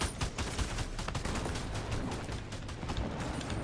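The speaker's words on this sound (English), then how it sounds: "Whoa, Nelly, they are shooting at me." Gunfire in a Fortnite match, rapid bursts of shots crackling one after another across the whole stretch, steady and fairly close, with no talking over it.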